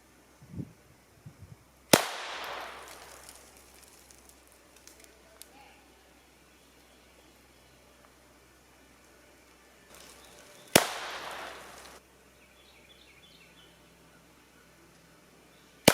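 Taurus TX22 .22 pistol shooting cheap bulk ammunition outdoors: two sharp separate reports several seconds apart, each trailing into a brief echo, with quiet talk and birds between them.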